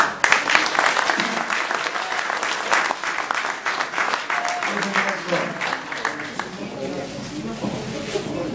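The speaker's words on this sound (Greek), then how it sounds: "ένα χειροκρότημα." A crowd at a New Year pie-cutting event in Falatados bursts into loud applause that starts strong and gradually thins out, with scattered voices emerging toward the end.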